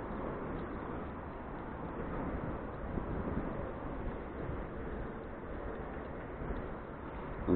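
Steady, moderately loud wind over the Volga near Volgograd roars across the microphone, swelling and easing slightly without pause, with no voices heard.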